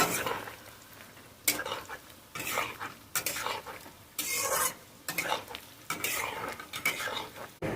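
Fish pakoras coated in besan batter fry in hot oil, a steady sizzle broken by repeated bursts of stirring and scraping with a utensil against the pan.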